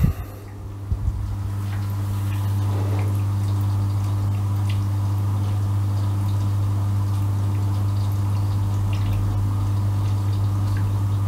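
An Aquael Ultramax aquarium canister filter hums steadily and quietly throughout, a constant low drone with faint trickling water over it and no talk.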